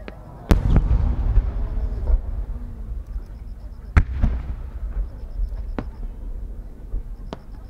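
Fireworks by Shinohara Enka at the Omagari fireworks competition bursting in sharp, loud booms at irregular intervals, each followed by crackling and rumbling decay, with a voice faintly underneath.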